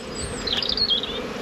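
A steady hum of honey bees at a Bellow hive after winter, with a single insect buzzing close by for a moment, everything else quiet.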